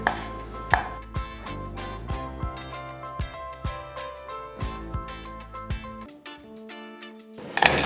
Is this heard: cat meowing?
no